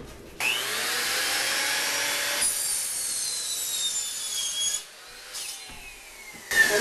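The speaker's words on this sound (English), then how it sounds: "just trim off all these junky ends in the chop saw" A chop saw trims the rough ends off plywood, a loud, steady whining cut lasting several seconds, a brief dip as the blade spins down, then another short cut starting up close by with no talking.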